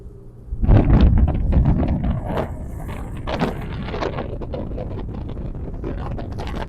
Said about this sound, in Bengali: বাতাসের উইন্ড স্পিডটা আজকে অনেক বেশি এবং সাগরটা অনেক বেশি খারাপ